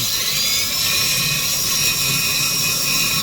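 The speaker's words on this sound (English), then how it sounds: "I just got a drill with a stepper bit on it" A power drill with a step bit whines loudly and continuously at high speed, a steady grinding buzz with no pauses, drilling into a 2019 Honda Pilot roof.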